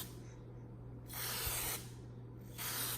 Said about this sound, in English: just spray on. You don't have to spray that much